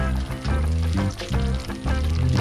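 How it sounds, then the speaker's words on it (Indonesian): Ingredients sizzle in hot oil in a pan while Thai sweet chili sauce is cooked, a dense crackling fry that pulses as the pan is stirred, close and loud with no talking. "kita goreng dulu"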